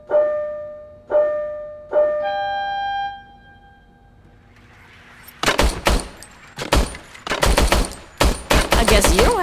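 The RoboCop service weapon from the video game RoboCop: Rogue City fires in quick, loud bursts of sharp, close shots that come in rapid clusters, after a few tonal electronic beeps and a quiet pause.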